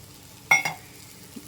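Thick first-press coconut milk being stirred into olan curry with green chillies in a pan, giving two quick close scraping strokes of a spoon and then quiet.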